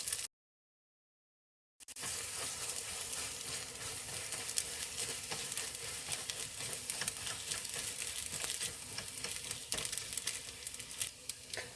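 Cheese being stirred through vegetarian pasta carbonara in a pan gives a steady, close sizzle with scraping and soft crackling that runs on without pause after a brief silence at the start.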